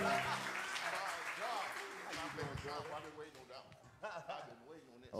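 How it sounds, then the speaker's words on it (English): Church congregation clapping hands during a worship service, a brief burst of applause mixed with voices and music that fades as talking takes over. "Come on and give the Lord a hand clap."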